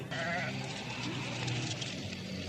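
Goats bleat in a goat pen, with several wavering, nasal cries in quick succession, close and fairly loud against a steady background.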